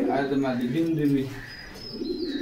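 Pigeons coo softly at a pigeon market in Bogura, low throaty calls heard close by under nearby chatter and bargaining voices.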